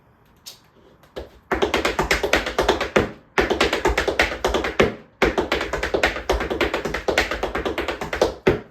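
Rapid, crisp tap shoe strikes roll in steady bursts, with short pauses between runs of quick, even steps on a hard floor.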